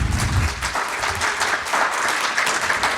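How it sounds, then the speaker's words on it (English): An audience at a live Celebration Europe 2023 stage show breaks into a round of applause, dense steady clapping from a large crowd that carries on for a few seconds. "Another round of applause,"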